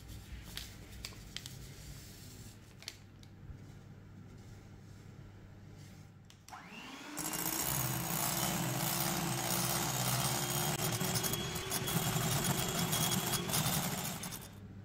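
Electric mixer whipping egg whites and sugar into meringue, starting as a faint low whir with light tapping, then jumping to a loud steady high whine after a speed increase, running on without speech.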